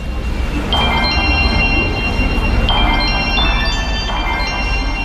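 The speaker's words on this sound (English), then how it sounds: "I found some really interesting bell sounds on the music app that I'm going to incorporate in the composition." Electronic bell tones from an iPhone music app ring out in a few separate struck chimes with sustained shimmering overtones, moderately loud over a low background hum.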